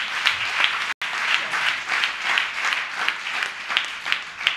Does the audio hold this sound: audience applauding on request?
yes